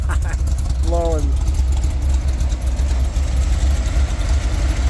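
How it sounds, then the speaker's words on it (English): A Toyota FJ40 restomod with a V8 idles through dual side-exit exhaust pipes, a loud, steady, deep rumble with a throbbing low pulse that runs through the whole clip, and a brief squeak near the start. "it's got that, you know, muscle car sound, which is such a fun sound to have"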